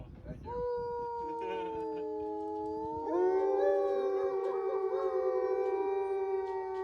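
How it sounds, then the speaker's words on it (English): Several wolves howl together in long, sustained, overlapping tones that rise and waver, with a second wave of louder howls joining midway; the chorus is clear and near, with no talk over it. "They also howl to mark their territory, and sometimes they just do it for pack bonding."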